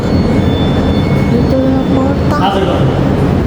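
A train runs on rails near Venice, Italy, giving a loud steady rumble with brief metallic squeals and tonal whines, while people talk over it.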